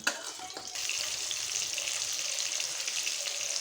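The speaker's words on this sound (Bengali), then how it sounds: "একইভাবে আমি বাকি মাছগুলো ভেজে নেব" Pieces of katla fish fry in a pan of hot oil, making a steady, fairly loud hiss and sizzle that starts up after a brief clatter and then runs on with no talking.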